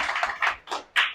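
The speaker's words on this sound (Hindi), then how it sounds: "इसके लिए एक जोरदार ताली होना चाहिए" Sparse hand clapping from a small audience at a talk on nutrition, uneven bursts coming in a few separate swells rather than sustained applause.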